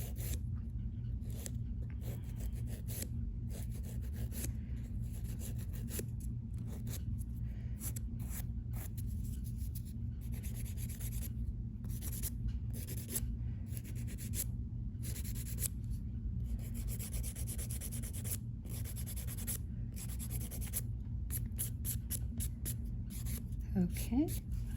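A nail file rubs back and forth across fingernails in quick, steady strokes, soft and close, over a constant low background hum.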